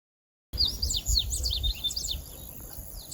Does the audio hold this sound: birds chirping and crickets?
yes